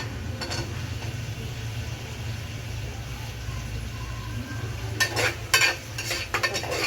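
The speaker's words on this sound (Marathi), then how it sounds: "टोमॅटो पण आपण परतून घेऊया." Chopped tomatoes stirred with onions, ginger and garlic in a pan for a prawn rice dish, giving a steady low sizzle with scraping spoon strokes that grow busier and louder toward the end.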